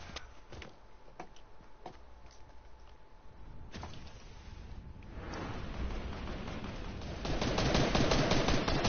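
Rapid gunfire in a first-person shooting video game, scattered single shots early on building into dense, loud sustained bursts toward the end, with no talking.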